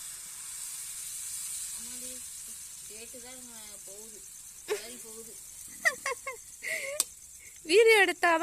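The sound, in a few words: dosa batter sizzling on hot griddle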